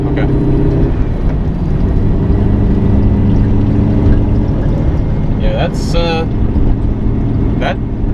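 A modified, cammed Chevrolet Corvette C7 drones steadily while driving, a constant low engine and road rumble inside the cabin, with people talking over it.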